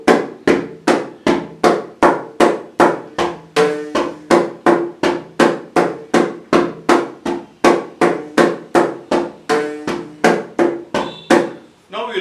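Repeated rhythmic percussion strokes from a drum playing a dimmi kita taka tari kita taka phrase in a Carnatic rhythm lesson, a steady string of sharp, close, loud hits with no pause between them.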